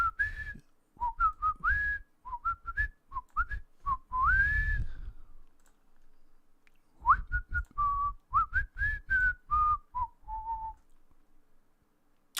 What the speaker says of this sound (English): I didn't promise I'd stop whistling.